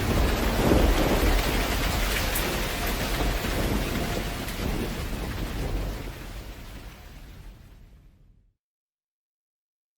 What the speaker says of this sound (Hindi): देखो, बारिश तब से थमी नहीं है।